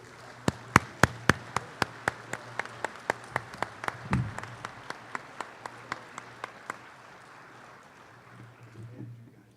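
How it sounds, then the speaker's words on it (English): Applause greets the Ladies Auxiliary president at a state firemen's convention session: a steady, evenly spaced run of sharp claps that thins out and fades after about six seconds, over a low electrical hum. "join me in a round of applause and a warm welcome for them as they enter"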